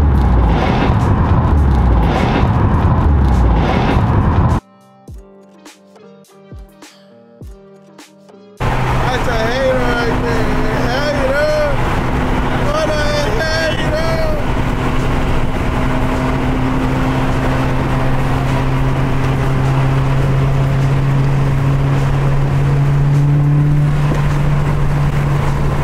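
Subaru BRZ engine and exhaust droning loud and close, a steady, full-bodied note that cuts out briefly near the start, then resumes and holds with slight pitch shifts.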